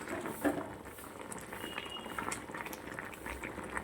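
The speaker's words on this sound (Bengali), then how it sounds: "তরকারিটা কিন্তু ফুটে উঠেছে।" A pot of curry with greens, potato and salt simmers at a rolling boil, soft bubbling and popping that carries on steadily and faintly, with no voices.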